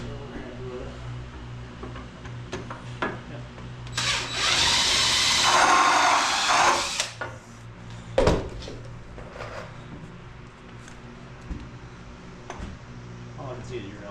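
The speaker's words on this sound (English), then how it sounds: "We'll put it in and pre-drill the bottom hole." Power drill pre-drilling a hole in a wooden Adirondack chair, one burst of whirring lasting about three seconds, close and fairly loud, followed by a sharp knock and quieter handling clatter amid a workshop hum.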